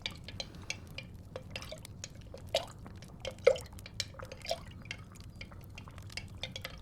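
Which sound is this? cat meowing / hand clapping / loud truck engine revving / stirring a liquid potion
stirring a liquid potion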